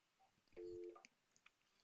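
A Fastcall softphone in Salesforce plays a ringback tone for an inbound call. One short, steady electronic tone is followed by a few faint clicks in otherwise quiet surroundings.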